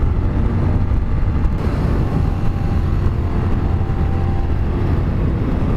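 A 2017 Suzuki SV650 motorcycle accelerates hard, its engine giving a loud, continuous, broadband roar that holds steady throughout without voices.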